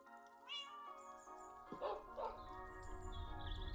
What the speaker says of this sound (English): Your dogs and cats are making so many noises right now.